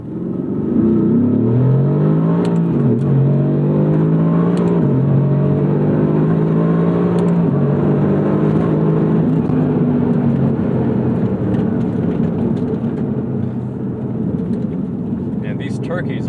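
A Mercedes AMG GT R engine revs hard with a rising, loud pitch, drops at the upshift from first to second, then climbs again in a continuous roar heard from inside the car, with a voice faintly present.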